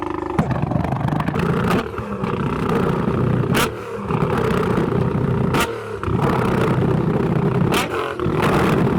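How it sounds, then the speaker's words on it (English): A Nissan 350Z engine revs hard in a rev battle at a UK modified-car meet, a loud, continuous roar with several short dips where the throttle lifts before it surges again. "The 350Z was revving"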